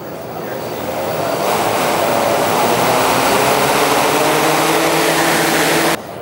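Motors on a remote-controlled flying craft spin up under thrust, a loud steady roar swelling over the first second and holding for about five seconds before cutting off abruptly, close by and without speech.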